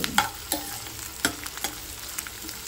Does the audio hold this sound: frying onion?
yes